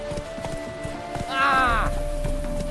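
Roach, a horse in The Witcher 3, clip-clops at a steady gait in the foreground and lets out a short whinny midway, with a voice talking over the hoofbeats.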